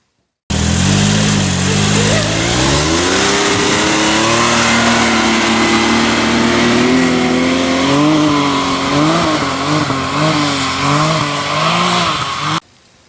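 A Can-Am Maverick X3 XRS side-by-side with a tuned HMF exhaust accelerates from 0 to 60, loud and raspy, pitch climbing and wavering as it pulls hard, close and continuous for several seconds.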